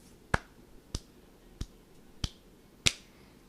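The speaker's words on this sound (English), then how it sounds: "Some people were clapping like this." Half-hearted clapping demonstrated by one person, five sharp, isolated claps spaced evenly about half a second apart, close and distinct in a quiet room.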